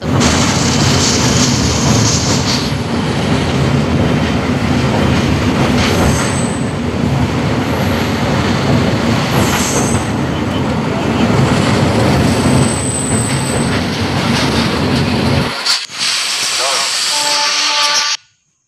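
A passenger train rumbles past close by near Howrah in the monsoon, loud and continuous, with wheels clattering and screeching over the rails before the noise abruptly cuts off.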